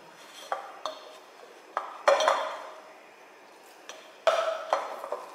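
Spatula scraping and knocking against a bowl while mixing dumpling dough, several sharp clinks and taps spaced irregularly, close and clear with no talking.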